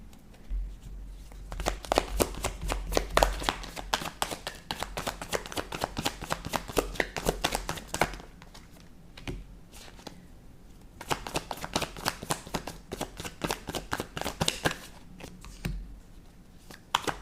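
Tarot cards are shuffled in close, rapid bursts of papery riffling, two long runs separated by a short pause, with no talking.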